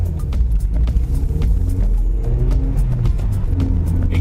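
A Mazda MX-5 Roadster sports car, a model built for 25 years, drives with a steady, loud low engine rumble that holds throughout, heard from inside with no talking over it.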